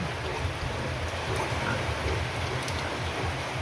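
Steady, dense rain hisses without a break, a broad wash of noise with a low rumble underneath and no voices.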